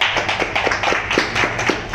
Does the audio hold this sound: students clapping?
yes